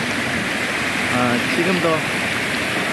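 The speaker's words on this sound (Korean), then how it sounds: "물이 약간 늘어서 약간 물이 쫄쫄쫄 내려가기도 합니다만" A small stream trickles and rushes steadily as a continuous watery hiss while someone talks over it outdoors, the water level slightly raised.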